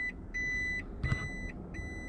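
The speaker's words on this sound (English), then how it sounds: "another thing that sucks about the Prius is its horrible beeping." A Toyota Prius sounds its reversing alert as a series of high, sharp electronic beeps in an even rhythm, close and fairly quiet over a low background rumble.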